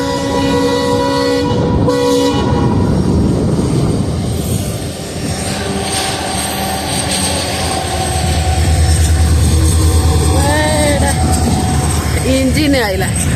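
A train rumbles past loudly and steadily with a long tonal drone and rattling wagons, while people talk over the noise.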